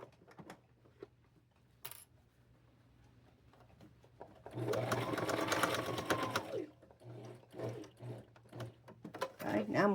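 A sewing machine runs in a sustained close whirring burst while stitching a jumper seam toward the pocket, preceded and followed by quieter handling clicks and a person's soft speech.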